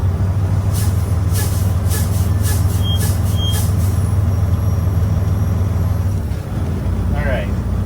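A truck sits idling with a loud, steady low diesel rumble while its air brake system builds pressure, with a few hissing air bursts early on and a brief dip near the end.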